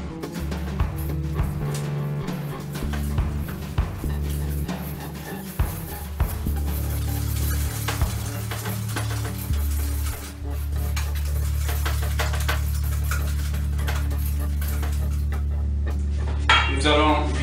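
Batter with two egg whites stirred in a bowl, continuous scraping and clinking of utensil against the bowl, close and steady throughout.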